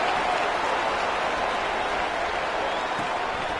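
A home crowd at a college football kickoff for the Bruins, a dense, steady wash of cheering and applause that holds at even loudness throughout without a break, with no single voice standing out.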